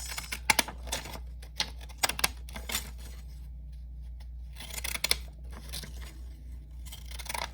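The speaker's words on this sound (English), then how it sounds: "I'm going to cut that out with the same scissors that I cut the front part out" Scissors cutting paper for a mini junk journal cover make a series of crisp close snips in uneven bursts, with quieter pauses between; no talking.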